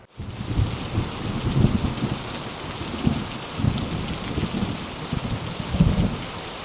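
Steady heavy rain pours down with low rumbles of thunder rolling underneath, swelling a few times throughout.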